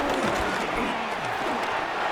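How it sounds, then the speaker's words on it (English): Stadium crowd at MetLife Stadium roars in the Madden 26 football video game, a dense, steady wall of cheering that holds at an even level throughout. "the crowd here at MetLife Stadium in full roar"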